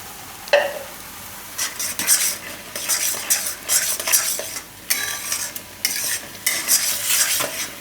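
Mixed dal vadi curry cooks in a pan, with repeated close scraping and clinking of a spoon against the metal over a soft background sizzle, coming in irregular bursts.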